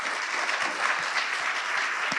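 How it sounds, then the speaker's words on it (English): A banquet audience at an annual entrepreneurs' awards dinner applauds the sponsors, producing steady, dense clapping that fills the room evenly without pause. "let's give everybody another round of applause"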